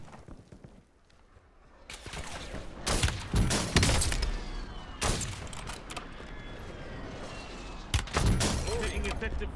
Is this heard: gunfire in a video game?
yes